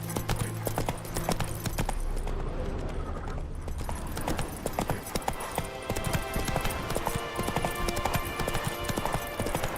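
A horse gallops with steady, loud clip-clop hoofbeats running throughout, set against a dense, busy background mix.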